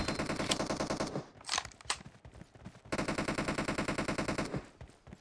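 Automatic gunfire in the mobile video game Battlegrounds Mobile India, a Domination match, comes in loud rapid bursts with a brief gap of scattered single shots and clatter before sustained fire resumes.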